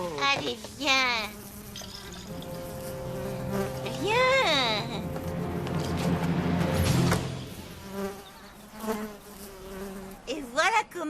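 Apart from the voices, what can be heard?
bees buzzing, attracted by honey cough syrup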